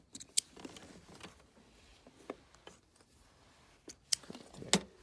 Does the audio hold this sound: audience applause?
no